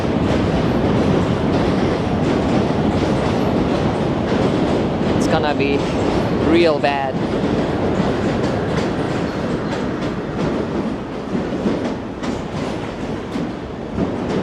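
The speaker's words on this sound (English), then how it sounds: "Oh, it's Q train." A New York City subway Q train rolls past at close range, its steady rumble and rail clatter filling the whole stretch with brief squeal-like tones midway, while a person speaks briefly over the noise.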